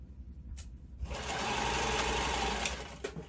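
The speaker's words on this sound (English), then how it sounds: "slide your fabric on top of the free arm, and then just stitch it down so it doesn't go anywhere." Sewing machine stitching fabric laid over its free arm while making a yarn holder, starting after a brief pause and running as a steady, close mechanical whir for a couple of seconds.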